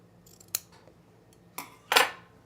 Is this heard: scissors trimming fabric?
yes